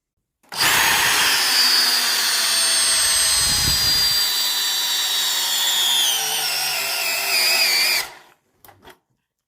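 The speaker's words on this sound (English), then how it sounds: "Let's see a 3/8 lag bolt, low speed." A subcompact drill drives a 3/8 lag bolt into wood at low speed, a loud steady motor whine from start to finish, then two short bursts after it stops.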